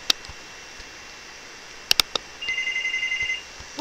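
A phone rings with a short electronic ringtone, a rapid pulsing tone lasting about a second, preceded by a few sharp clicks against steady background hiss.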